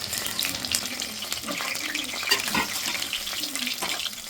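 Mushrooms frying in hot oil in a pan, giving a steady loud sizzle and crackle with a few sharper pops over about four seconds.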